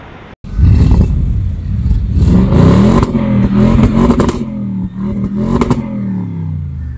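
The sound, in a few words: Audi RS7 engine revving to soft limiter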